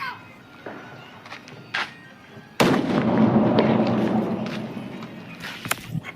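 Firecrackers bursting outdoors at a New Year celebration, a few sharp isolated pops followed by a dense crackling barrage of rapid bangs, with people talking faintly in the background.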